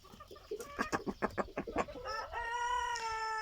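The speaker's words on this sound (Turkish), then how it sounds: "buradaki kümesimizde ilk videoda horozumuz" A rooster clucks in quick staccato bursts, then launches into a long, drawn-out crow, close and clear with no talking.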